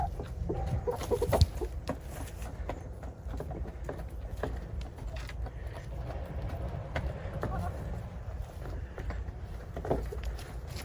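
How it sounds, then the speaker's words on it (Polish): A rooster on a garden plot in autumn clucks and gives short calls amid steady low background noise, with a person talking softly nearby. "Cichutko, kogutku, nie denerwuj się."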